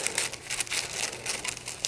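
Scissors cut through sewing pattern paper while a tucked blouse pattern is altered, giving a steady close crinkling and rustling of paper with small crisp snips over a couple of seconds, no talking.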